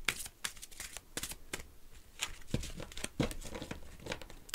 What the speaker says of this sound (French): je vais maintenant tirer une carte de l'oracle viking